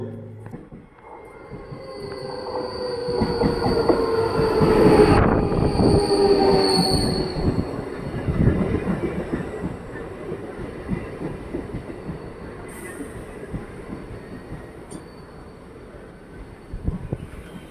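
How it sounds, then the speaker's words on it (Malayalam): A MEMU electric train from Erode to Palakkad Town rumbles close by at a station, with metallic wheel squeal and clatter, swelling loud around the middle, then settling into a steady rolling rattle. "ഈറോഡ് നിന്നും പാലക്കാട് ടൗൺ വരെ പോകുന്ന മെമു ട്രെയിനാണ്."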